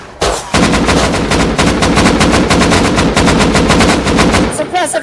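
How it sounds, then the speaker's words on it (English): Sustained rapid automatic gunfire from the survival game Rust, loud and continuous for several seconds during a raid, ending abruptly with brief quieter sounds. "Suppressive fire."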